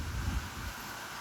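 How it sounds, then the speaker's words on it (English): Wind buffets a microphone outdoors on a very windy summer day in West Virginia, a low rumbling gust that is close and fairly faint, with no talking. "Windy. It's all windy."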